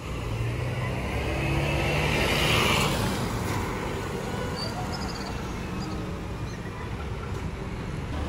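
At a night bus terminal, a Kurnia AW03 UHD coach pulls out with a low diesel rumble that swells and then eases as it moves away, mixed with steady background noise.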